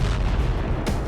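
A TOS-1A thermobaric rocket launcher fires, producing a brief, loud, rumbling roar that fills the whole moment.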